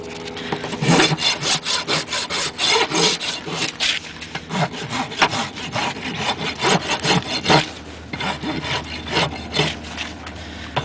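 A horse's hoof is rasped during barefoot trimming, with steady rhythmic back-and-forth filing strokes, loud and close, repeating throughout with no talking.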